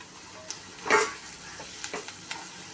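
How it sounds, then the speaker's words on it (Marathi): Finely chopped tomato going into sautéed onion in a pan for aloo dum gravy, giving a low steady sizzle with a few sharp clinks of a spoon and one louder scrape near the middle, no voices. "कांदा परतून झालेला आहे, त्यामध्ये आता आपण बारीक चिरलेला टोमॅटो टाकूया"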